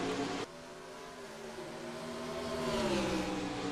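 A field of NASCAR Cup Series cars roars off at the green flag on the Richmond dirt track, a dense, continuous engine drone with rising pitch as the pack accelerates, loud and steady throughout with no voices.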